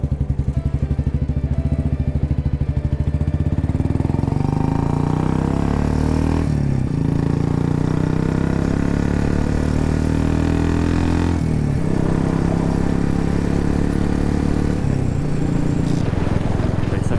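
A Royal Enfield Bullet riding on a highway from Pune toward Raigad: a loud, close, steady engine drone with rising pitch as it accelerates, shifts gears a few times, and runs under wind rush.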